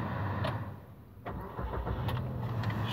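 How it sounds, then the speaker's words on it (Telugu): A new car's engine cranks and catches, then settles into a steady close idle, with no talk. "స్లోగా స్టార్ట్ చేయాలి."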